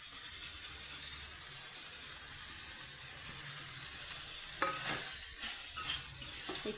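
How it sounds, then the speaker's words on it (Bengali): Fried potatoes stirred into dheki saak greens in a pan, a soft steady sizzle with a few scraping stirs toward the end, no one speaking. "এখন আলুগুলো দিয়ে দেব। ভেজে রাখা আলুগুলো দিয়ে দেব।"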